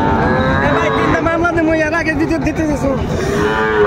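Small bulls and heifers at a cattle market in Keraniganj, Dhaka, moo loudly and continuously, with several overlapping drawn-out calls close by and crowd chatter beneath.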